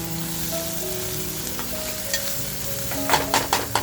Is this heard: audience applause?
no